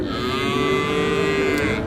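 A calf at a cattle market gives one long, steady moo, loud and close, with no talking.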